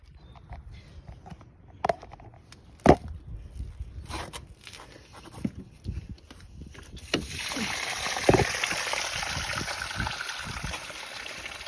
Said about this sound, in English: I am going to pull my fresh water drain.